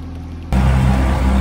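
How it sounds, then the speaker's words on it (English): A trimaran motors through the Bay of Quinte, with a loud, steady engine drone that cuts in abruptly and holds for about a second, heard close with no talking. "We are motoring through the Bay of Quinte"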